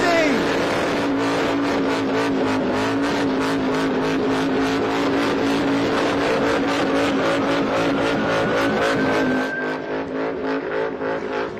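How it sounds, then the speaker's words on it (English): A car does a loud, sustained burnout at a motorsport show, its engine roaring steadily at high revs for over ten seconds and easing off near the end, as an announcer talks over it. "First car out there popping both tires."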